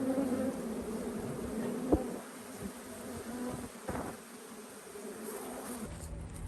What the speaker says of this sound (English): and let's see some bees